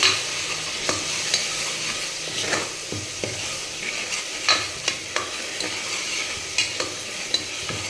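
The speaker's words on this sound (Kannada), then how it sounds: "ಈಗ ಪೇಸ್ಟ್ ರುಬ್ಬಿದ್ಮೇಲೆ ಅದನ್ನ ಹಾಕ್ತಾಯಿದ್ದೀನಿ. ಸ್ವಲ್ಪ ಅದು ಹಸಿ ಸ್ಮೆಲ್ ಹೋಗೋವರೆಗೂ ಹುರ್ಕೋತೀನಿ." Ground masala paste of garlic and onion fries in hot oil for village-style mutton curry, a loud steady sizzle with repeated sharp scrapes and knocks of a ladle against the pan.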